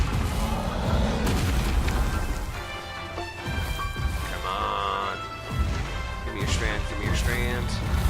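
Fireworks burst in the video game Eternal Strands as a run of booming, crashing explosions that rumble one after another over about eight seconds, layered with game effects and a voice talking underneath.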